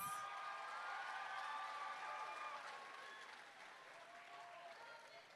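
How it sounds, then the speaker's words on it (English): Audience at a high school pageant applauds steadily for several seconds, a dense, continuous patter of claps from a sizeable crowd that gradually eases slightly in loudness toward the end. "let's give them a big hand for entertaining us this evening"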